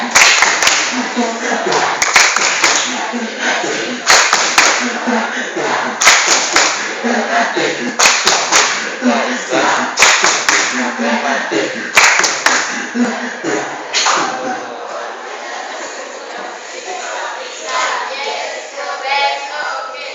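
A group claps a rhythmic chant, sharp synchronized claps punctuating voices chanting in time at a Quran-school teacher training session, loud and close, with clapping fading toward the end as voices continue.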